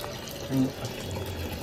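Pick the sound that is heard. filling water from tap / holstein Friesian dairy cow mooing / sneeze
filling water from tap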